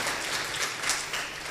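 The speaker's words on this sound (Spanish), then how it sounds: "Dale un fuerte aplauso al Rey de la Gloria." Church congregation applauding a worship call during a 2015 leaders' seminar, a dense steady wash of clapping filling the whole short stretch with no voices heard.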